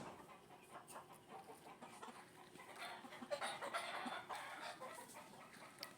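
Broody hens cluck softly at midday on a small farm, a scatter of quiet, irregular clucks and low murmurs that rise a little in the middle, with no talk over them.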